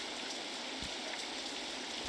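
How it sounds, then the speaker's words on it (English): Rain in the video game RollerCoaster Tycoon 3: a faint, steady hiss of falling water with soft scattered patters, continuous and even throughout. "It's raining now."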